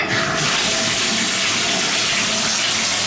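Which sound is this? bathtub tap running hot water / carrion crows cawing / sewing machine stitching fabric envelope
bathtub tap running hot water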